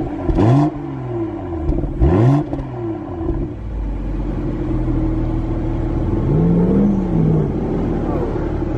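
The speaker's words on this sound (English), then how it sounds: "So Lou is going to turn on the sound of the vehicle. It is going to be powerful." Toyota Supra sports car engine revving hard twice in quick succession, loud and close, then settling into a steady rumbling idle with a softer rise and fall of revs near the end.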